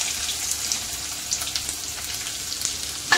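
Finely chopped onion goes into hot oil in a pan for kothimbir vadi bhaji rassa, giving a steady, close hiss and sizzle with a few small pops and no talk.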